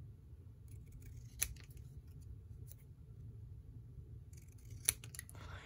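Hand scissors trim paper ATC cards, giving two sharp, isolated snips about three seconds apart and a fainter cut between them, close and quiet.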